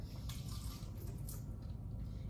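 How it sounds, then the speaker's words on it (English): A little water poured into the bottom of a bottle for a carbide cannon in a combustion lab, a soft trickling splash lasting about two seconds with brief brighter bursts, close and alone. "I'm just going to put a little bit of water"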